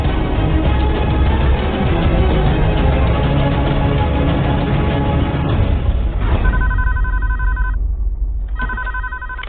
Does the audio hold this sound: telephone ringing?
yes